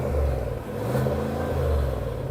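A Cadillac Escalade's 6.2-litre V8 rumbles and revs briefly in a steady, low, muffled drone with a slight swell, heard alone from close by.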